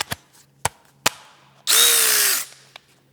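A 1/2-inch cordless, battery-powered electric ratchet spins in one loud burst of just under a second, with a few sharp clicks before and after it.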